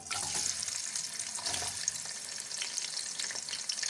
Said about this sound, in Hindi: अब हम इसके अंदर ये प्याज और जो लहसुन है हमारा उसको ऐड करेंगे